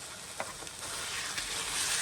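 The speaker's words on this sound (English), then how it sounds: "we are just going to get this ground beef and onion mixture nice and brown" Ground beef and chopped onion frying in a little olive oil in a pan, a steady close sizzle with a few soft clicks of stirring, growing slightly louder toward the end, no talking.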